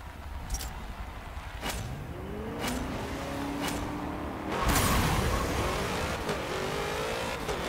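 Race cars in Forza Motorsport 7, with a Camaro and a Crown Vic, rev hard as engines climb through gears, rising pitch sweeps repeating, then a louder surge as the cars roar off, steady and close.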